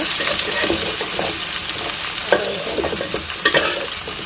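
Tilapia pieces frying in hot oil, a dense, steady sizzle close by with scattered scrapes and taps of a utensil, without talking.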